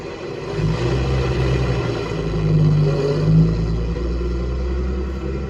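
Engine of a 1916 Locomobile car in good running condition idles steadily with a low, continuous rumble, close and fairly loud, with slight swells in level and no talk.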